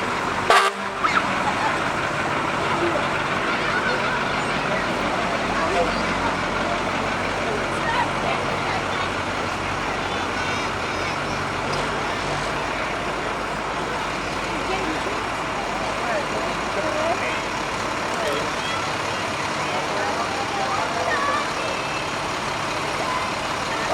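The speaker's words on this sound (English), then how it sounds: "now we've got our entourage of fire trucks" Fire trucks, including a ladder truck and engines, drive slowly in a high school homecoming parade, honking horns over a continuous crowd murmur and engine rumble while a person talks throughout.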